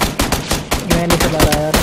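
Loud, close automatic gunfire from PUBG Lite rattles in quick repeated shots, with a brief tonal in-game sound mixed into the later bursts.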